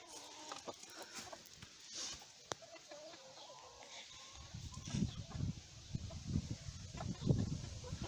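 Sussex chickens cluck and murmur in their coop, soft scattered calls early, then louder bursts of low clucking and rustling in the latter half, without speech.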